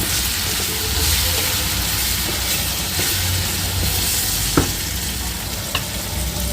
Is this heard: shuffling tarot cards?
no